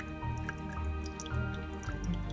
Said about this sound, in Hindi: इसमें सिर्फ एक आवाज जो सुनी जा सकती है वो पानी के बहने की आवाज